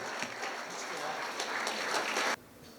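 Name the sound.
audience applause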